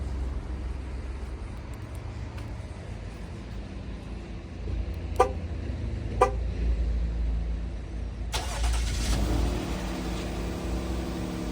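A Jeep starting by remote start, with a short, sharp mechanical click or chirp twice before the engine catches and settles into a steady low idle beneath a broadband rumble.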